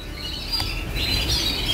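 Pet birds in a home aviary chirp faintly in the early morning, a few soft, high tweets over a steady background hiss with no talking.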